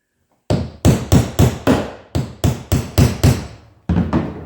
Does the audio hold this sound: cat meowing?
no